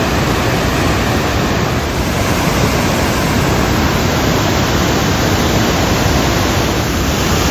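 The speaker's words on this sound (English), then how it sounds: "Spectacular waterfall." Waterfall at Krka or Plitvice in Croatia, a dense continuous roar of falling water, loud and steady throughout with no voices.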